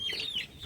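Chickens and young roosters clucking in a quick, close burst, a short run of soft cackling calls with no talk.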